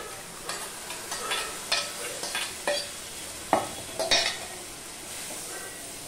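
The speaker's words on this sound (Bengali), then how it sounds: "এবারে আমি যে সিদ্ধ করে রাখা চানা ছোলাগুলো আমি দিয়ে দিচ্ছি" Boiled chickpeas tipped into a frying pan and stirred, giving a soft sizzle with several scraping and clinking strokes of a utensil against the pan, close and fairly quiet.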